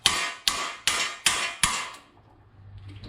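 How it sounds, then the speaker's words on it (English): A hammer strikes an impact screwdriver five times in a steady rhythm to loosen Phillips screws on a Datsun 521 mini truck, each blow a sharp, close metallic crack, followed by a quieter pause. "these impact screwdrivers are priceless"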